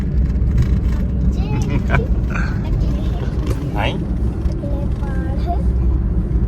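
A car drives along a mountain road in Himachal, its engine and road noise forming a steady, close rumble while people talk over it inside the cabin.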